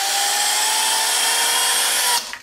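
A Clorox Scrubtastic battery power scrubber runs overdriven at 12 volts, a close, loud, high-pitched whine with a rattly edge that holds steady, then cuts out abruptly near the end.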